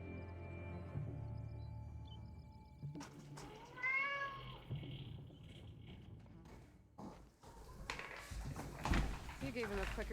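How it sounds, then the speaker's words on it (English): A cat meows around the four-second mark: a single rising and falling cry with clear harmonics, set against game sounds and talking. "Yeah, it's my kitty cat."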